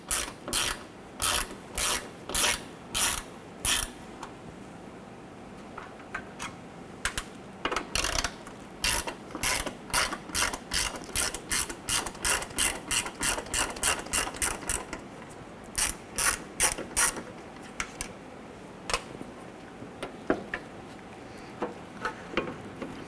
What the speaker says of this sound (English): We're going to use our 1/4 inch ratchet and our bit,